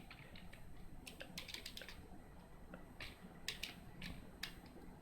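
Fingers type on a computer keyboard in quiet, uneven bursts of clicks, with a faster cluster in the middle and a few sharper taps toward the end.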